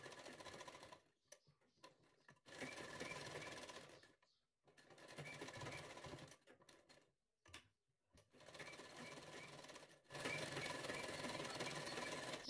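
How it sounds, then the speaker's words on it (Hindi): A sewing machine stitching a blouse runs in rapid, steady bursts, stopping and restarting several times with short pauses between runs, moderately close and with no talking. "इस तरह पलटेंगे और पलटने के बाद इस पर सिलाई लगा देना है।"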